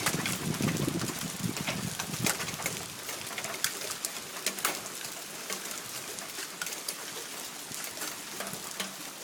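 Hailstones hitting during a Michigan hailstorm make a continuous crackling patter with scattered sharp clicks and clangs, steady and moderately loud throughout, no one speaking.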